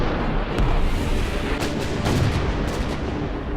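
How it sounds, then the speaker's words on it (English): Battleship guns fire a naval bombardment from offshore around sunrise, heard as several heavy booming blasts and rumbles in quick succession, loud and without voices. "And the naval bombardment began."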